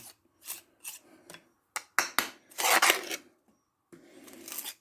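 Steel trowel scraping lime mortar into the joints of a stone wall during lime pointing: a series of short, dry rasping scrapes with brief pauses, close and clear, with no talking.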